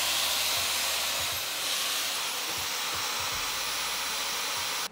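A hair dryer running on its lowest heat and lowest airflow setting gives a steady broad airy hiss for about five seconds, cutting off abruptly at the end, close and alone.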